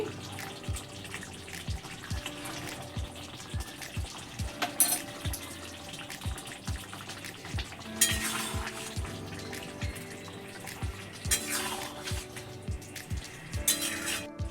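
Ghee poured over a raw jackfruit and prawn curry crackles in a steady, close sizzle, with a faint recurring rhythmic pulse beneath the hiss.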